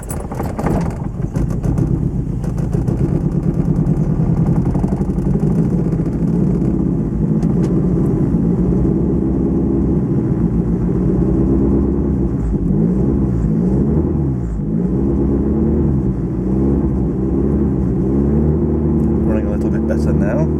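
A Lotus Excel's engine runs steadily while the car is driven for the first time, having earlier run poorly because a temporary fuel pump fix came loose. The drone is loud and continuous, with gentle rises in pitch, and someone talks over it.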